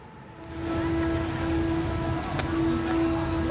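Heavy rain pours down in Semarang, Central Java, during flooding, a steady dense wash of downpour with a faint steady hum running beneath it, no voices heard.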